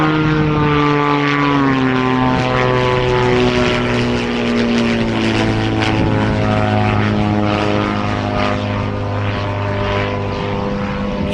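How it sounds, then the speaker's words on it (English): A propeller airplane passes loudly overhead, its droning engine tone with strong steady harmonics sliding slowly downward as it flies by, continuous for the whole stretch near a store parking area. "Oh, here comes that plane. Here comes that plane again."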